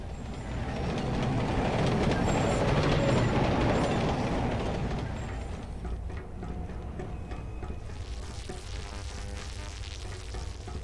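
A train rumbles through a tunnel in the Carrier Command remake, building to a loud broad roar with rhythmic clatter, then fading into a steadier, quieter hum with faint ticking.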